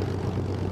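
A de Havilland Mosquito aircraft with one piston engine opened up to 2,000 rpm during ground run-up, giving a loud, steady, close propeller drone with no talk.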